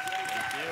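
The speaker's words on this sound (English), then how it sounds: "Big round of applause" An audience applauds at the closing ceremony of a disability-inclusion conference, a short burst of dense clapping under a speaking voice.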